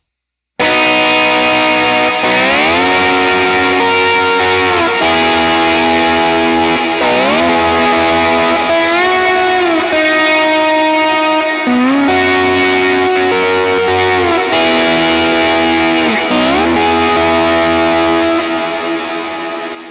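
Electric guitar with heavy distortion, chorus and echo effects, sliding chord shapes up and down the neck in sustained, ringing phrases with no talking.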